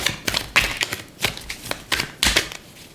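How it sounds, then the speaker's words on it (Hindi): A deck of cards being shuffled up close, with several quick riffling bursts and soft slaps spread over a few seconds, no voices over it. "अपने आप कार्ड्स गिर रहे हैं बट अच्छे से अभी शफल नहीं हुआ है।"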